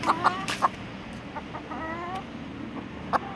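Aseel hens from Thailand cluck close by in short bursts and soft drawn-out calls, irregular and fairly quiet, over a faint background hum.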